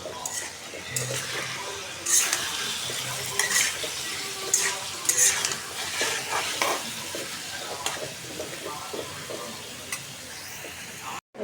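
Meat frying in a pan for biryani, sizzling steadily as it is stirred, with repeated scraping and clinks of a spoon against the pan, fairly close and without talk.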